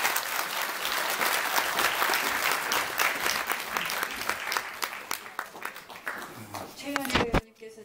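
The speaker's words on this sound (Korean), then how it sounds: "여러분 박수로 맞이해 주시기 바랍니다" An audience at a signing-campaign launch ceremony for restarting the Shin Hanul 3 and 4 nuclear reactors gives sustained crowd applause, dense and steady, thinning into scattered claps near the end.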